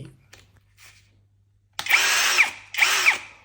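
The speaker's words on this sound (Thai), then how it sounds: "แล้วก็ตามด้วยเจาะรูบล็อกให้เรียบร้อย" A power drill with a steel chuck bores holes for wall anchors in two loud, close bursts of whining, grinding drilling, after a quiet stretch with a few faint clicks and handling sounds.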